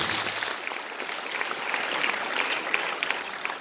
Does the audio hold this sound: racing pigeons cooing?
no